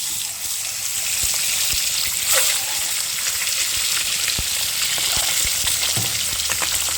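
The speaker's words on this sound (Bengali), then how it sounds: "তেলের মধ্যে প্রথমে ডিমগুলো ছেড়ে দিচ্ছি" Eggs fry in smoking-hot oil in a pan for an egg curry, a loud, dense, continuous sizzle with scattered sharp crackles and pops close by, no voices.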